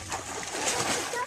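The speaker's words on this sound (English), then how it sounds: "All those waves, William, are making water go out of the pool" A child splashes and makes waves in a swimming pool, a continuous broadband sloshing and splatter under nearby voices.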